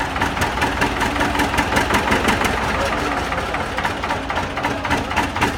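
A 1952 John Deere R diesel tractor idles in McIntosh County, North Dakota, with a loud, close, steady rhythmic knock that continues throughout under occasional talk.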